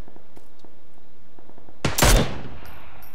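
A single burst of gunfire in a shooting video game, a sharp loud crack about halfway through against quiet background, no talk.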